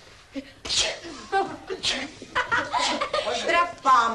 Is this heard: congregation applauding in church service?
no